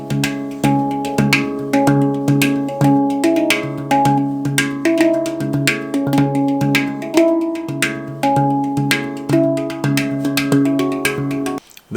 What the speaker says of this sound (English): Then I have a Hangdrum